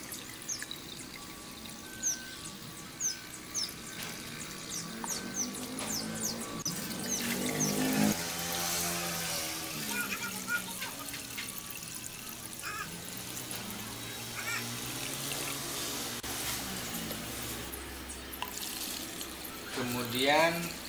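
Microbe starter liquid, soaked for four days, being strained and poured, producing a continuous trickling, splashing flow with a voice talking over it throughout.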